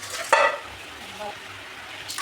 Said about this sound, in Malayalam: ഇത് നല്ലോണം ഇളക്കി കൊടുക്കുക.